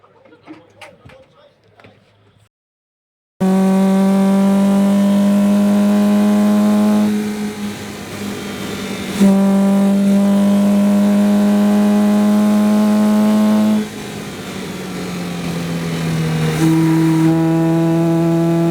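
Citroen 2CV racing cars drive on track during a testing day, with a loud, close, buzzing twin-cylinder engine that holds steady notes, shifts pitch with gear changes, and drones on continuously after a short quiet opening.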